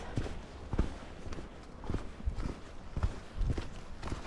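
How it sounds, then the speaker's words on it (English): Horses walking along a trail on the Bruce Trail between Mono Mills and Hockley Valley, hooves clip-clopping in an irregular, moderately close rhythm over soft ground. "Horses are in constant movement normally, naturally"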